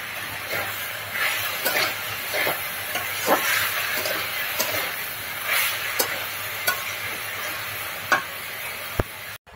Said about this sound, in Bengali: এই জন্য আমি পুঁই শাকটা খুব ভেজে দিই।